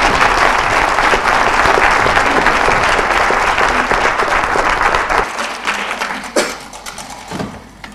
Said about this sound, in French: nous prendrons bien une salve d'applaudissements pour nous encourager